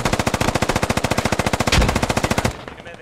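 Rapid automatic gunfire from the video game Operation: Jackal rattles in a fast, even burst of close, loud shots for about two and a half seconds, then cuts off abruptly.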